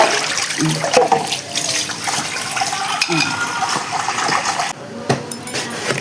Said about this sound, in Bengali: এখন মাছটা জল ঝরিয়ে নিতে হবে।